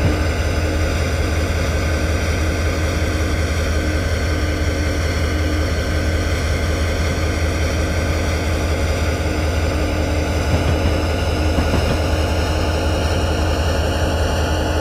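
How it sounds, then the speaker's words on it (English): Dynamic braking on a freight train locomotive descending a grade across North America, a steady loud engine and fan roar with a constant droning hum and whine that runs without a break throughout. "Start dynamic braking like crazy."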